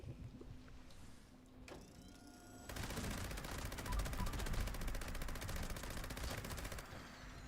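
A newly acquired gun in Fallout 76 fires a sustained rapid stream of shots after a quieter lead-in, steady and fairly close in the game mix.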